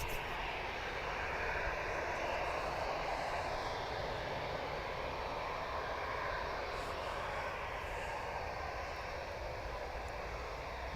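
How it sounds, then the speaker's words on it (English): A TUI airliner taxis at Manchester Airport, its jet engines giving a steady, broad roar heard from some distance that holds evenly throughout with no voices. "Another TUI taxiing out"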